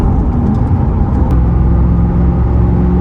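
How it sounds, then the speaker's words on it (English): A 1993 Chevrolet Corvette ZR1 motoring along with its engine running, a loud, steady low rumble and road roar from close by with little change in pitch, no voices over it. "Just motoring along in the king of the hill, the ZR1."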